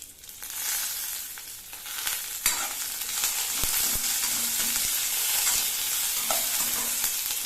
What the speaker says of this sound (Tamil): அடுத்தது ஒரு கொத்து கருவேப்பிலை